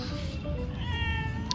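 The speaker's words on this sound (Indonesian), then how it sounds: "Ada kucing." A cat meows outdoors on a grassy field, giving a clear, drawn-out call that rises and bends in pitch over a soft, steady background.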